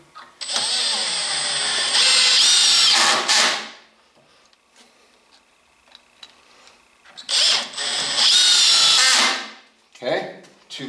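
A power drill drives 3-inch screws at an angle into wood while a reloading bench is built, running in two long loud bursts of several seconds each, then a short final burst, with quiet gaps between.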